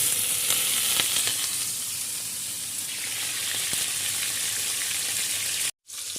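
Chicken pieces fry in hot oil with a little garlic, a loud, steady, dense sizzle that runs almost without a break, cut off briefly just before the end.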